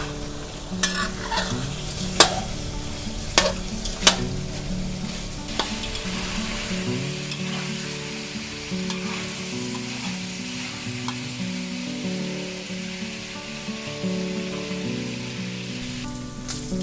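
Pork fat renders in a pan of evaporating water, bubbling and sizzling steadily throughout, with a few sharp clicks of a utensil stirring near the start and a constant crackling hiss underneath.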